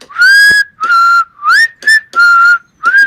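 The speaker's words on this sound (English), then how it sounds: "It's the whistling with the discordant in the background." A theme from Kill Bill is whistled loud and close as a melody of six sustained phrases with gliding pitch bends, separated by short pauses.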